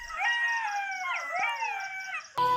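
A dog howls in long, wavering tones that rise and fall, close and fairly loud, ending with a short sharp yelp.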